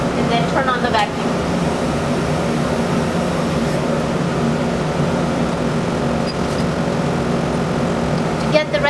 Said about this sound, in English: then turn on the vacuum